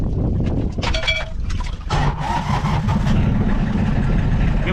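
Boat engine running on the water, a loud continuous low rumble with steady churning noise, close up and unbroken for the whole stretch, with brief higher clatter early on and no speech.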